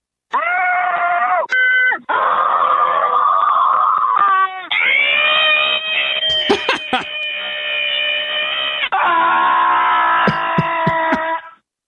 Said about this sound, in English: No one was injured during the screaming into the telephone.